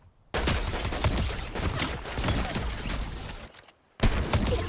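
A golden sniper rifle fires in a Fortnite match, with loud, dense bursts of gunfire and shooting that run almost continuously, broken by one brief silent gap before the firing resumes.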